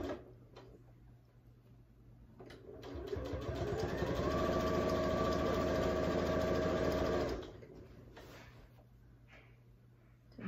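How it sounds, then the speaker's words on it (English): A sewing machine runs a steady, fast whirring stitch for about five seconds while sewing down quilt binding, starting and stopping cleanly, with quiet room sound and small handling noises before and after. "So I'm going to sew the rest of this down."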